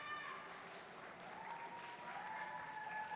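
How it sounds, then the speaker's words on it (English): Faint, distant applause from an audience at a Model UN closing ceremony, a soft continuous patter of clapping with some faint tonal sounds drifting above it throughout. "Please put a huge round of applause"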